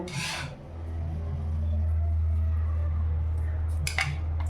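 Spiced filling pressed by hand into bitter gourds, giving a steady close rasping, rubbing and squishing against a low constant hum, with brief sharper scrapes near the start and end.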